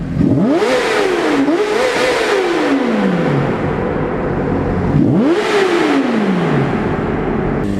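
Honda CBR sport motorcycle engine revved hard twice, each rev climbing sharply then winding down, loud and close with no talking.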